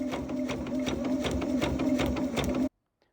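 A sewing machine runs steadily as it top stitches the binding on a patriotic baby quilt, whirring at close range in a continuous run that cuts off abruptly at the end.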